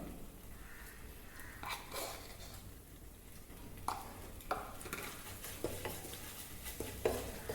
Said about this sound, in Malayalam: അതിലേക്ക് ജിഞ്ചർ ഗാർലിക് പേസ്റ്റ് ചേർത്ത് കൊടുക്കുക, നന്നായിട്ടൊന്ന് ഇളക്കുക.